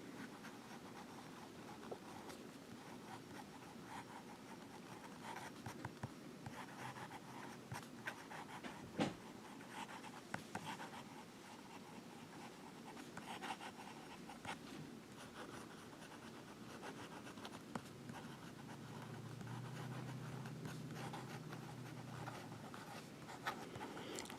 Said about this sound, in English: Alright, now reverse writing.